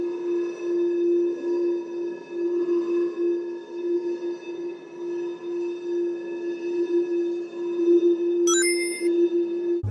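A sustained electronic tone with a long reverberant tail pulses gently as it sweeps side to side, with a brief bright chime near the end.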